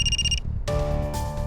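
A telephone rings close and loud, an electronic trilling tone that cuts off and gives way to a sustained musical ringtone, over a low background hum with no speech.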